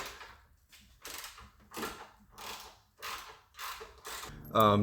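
Screws being removed from the cowling of a 2021 Nissan Murano, a series of about six scraping, ratcheting turns in bursts with short pauses, close by, ending in a brief higher squeak.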